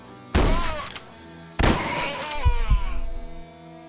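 Video game shotgun blasts: two loud, sharp booming shots spaced about a second apart, each trailing into a ringing decay, with a couple of duller thuds after the second.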